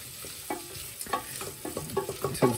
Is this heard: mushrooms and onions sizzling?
yes